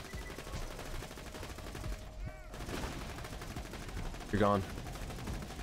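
Bursts of gunfire in the Borderlands 2 video game rattle at a modest level beneath a busy game soundscape, with a short spoken line heard partway through.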